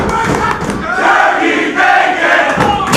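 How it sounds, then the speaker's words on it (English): A close-packed wrestling crowd at an independent Beyond Wrestling match chants in loud rhythmic unison, with a steady roar and short bursts of cheering filling the full three seconds. "Now the crowd chanting turkey bacon"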